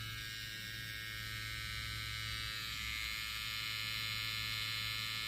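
A LENCE FF1T hair trimmer with a brushless motor and a newly changed blade bracket runs quietly, giving a steady, even electric hum with a faint high whine that holds throughout.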